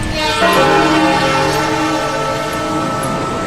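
A train rolls along the rails with its horn sounding, a loud sustained blaring chord over rumbling wheels, steady and close throughout.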